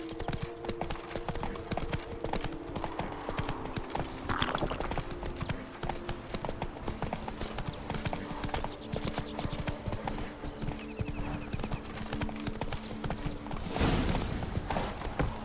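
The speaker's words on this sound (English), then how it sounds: "Not so fast, Roach" Hooves of the horse in The Witcher 3 video game clatter in a fast galloping rhythm throughout, moderately loud, with game ambience and a brief louder burst near the end.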